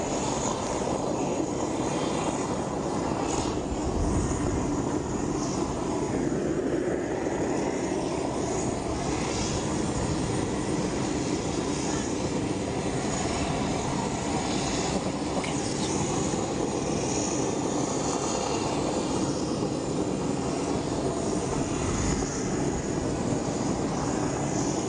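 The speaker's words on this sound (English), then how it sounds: "you will see the PX Alpha taxiing down the runway and taking off for Dili." Papal jet taxiing down the runway and taking off from Jackson's International Airport in Port Moresby, Papua New Guinea: a steady, broad engine roar holds loud and constant throughout, with no voices.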